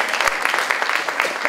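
A studio audience on a Korean talk show claps in a brief, lively burst of applause, close and steady with no talk over it.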